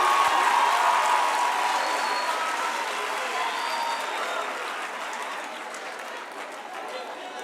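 Applause from a festival opening audience fills the space, loud at first and then slowly fading over several seconds.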